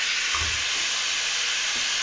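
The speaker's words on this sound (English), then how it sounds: "And of course we have a leaky air hose." Air hisses steadily from a leaky air hose in a workshop, a constant close, bright rush with a few faint low knocks underneath.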